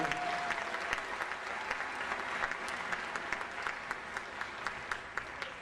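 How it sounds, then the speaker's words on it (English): Audience applause at a Martin Luther King Jr. Day community event fills the space steadily, a broad wash of many hands with sharper individual claps popping out, heard from a slight distance. "Let's give them a round of applause for all the work they do"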